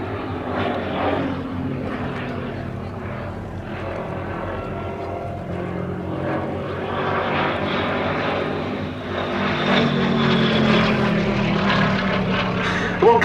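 A Gloster Gladiator Mk.II biplane's radial piston engine drones steadily at a Duxford airshow as the aircraft comes in to land, a continuous propeller rumble heard at moderate distance that swells slightly near the end.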